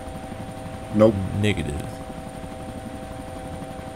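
A helicopter engine idles with a steady whine and hum in the video game DayZ, while someone speaks briefly over it.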